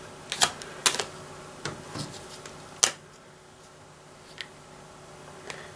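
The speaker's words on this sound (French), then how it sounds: "Et je continue de mélanger." A deck of playing cards being shuffled by hand during a card magic trick, a handful of sharp papery riffles and snaps at close range, quiet and uneven, with no talking over them.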